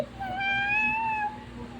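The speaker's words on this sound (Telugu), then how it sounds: "క్యాట్." A single drawn-out cat meow, clear and fairly close, rising and falling over about a second against a quiet background.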